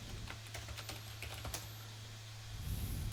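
Quick, light keystrokes on a computer keyboard tap out a short burst of typing, close and fairly faint over a steady low electrical hum, with no voices.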